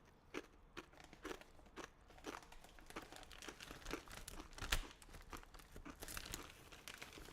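Crunchy food is chewed close up, giving a quiet run of irregular crisp crunches and crinkles with no talk.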